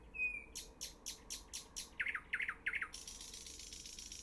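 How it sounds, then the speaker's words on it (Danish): A nightingale sings very close from a tree in Copenhagen, a loud series of evenly spaced repeated notes followed by quicker liquid phrases and a sustained trill. "jeg sidder lige ved siden af en nattergal og høre nattergalens sang mere tydeligt"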